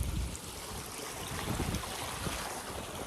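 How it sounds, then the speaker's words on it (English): Floodwater on an off-grid homestead rushing over a road at the culverts, a continuous loud wash of flowing water mixed with wind buffeting the microphone, with no talking. "the water is coming up over the road right now"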